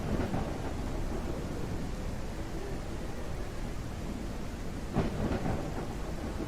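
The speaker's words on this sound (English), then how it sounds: "change the weather to this" Dark red storm weather effect from a homemade MMO set in Runeterra: steady loud rain wash with rumbling thunder throughout, a sharper crack of thunder near the end, no voices.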